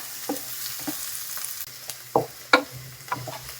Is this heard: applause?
no